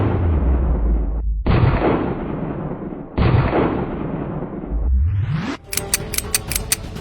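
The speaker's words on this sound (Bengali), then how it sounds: "নিচে গুলি কর, প্যান্টে গুলি কর।" Loud, booming gunshot blasts in a comedy skit, two long bursts back to back, followed by a quick string of sharp clicks as the firing ends.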